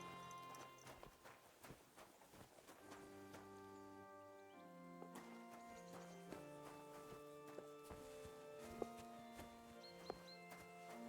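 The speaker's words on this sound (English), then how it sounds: "That's a good horse." A horse's hooves clip-clop in a medieval role-playing video game, a steady walking rhythm under tonal game music, faint and even throughout.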